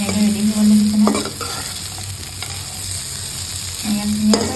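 Dangbodi (lesera) being stirred and fried in a pan: a close, steady sizzle with scraping strokes of the utensil against the pan at the start and end.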